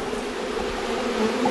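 Honey bees swarm in the air during a hive split, a dense, continuous buzzing close by with no voices.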